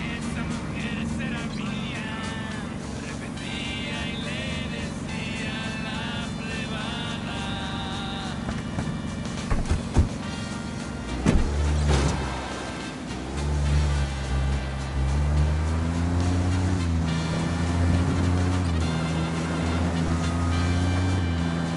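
A car engine drones steadily while being driven in the video game Ghost Recon, followed by shifting tonal game sounds and faint voices.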